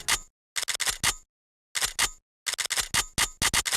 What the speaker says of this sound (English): and this gun reload sound.